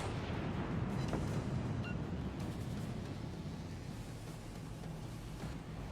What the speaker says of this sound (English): we definitely have the artillery advantage, so we start firing our guns at him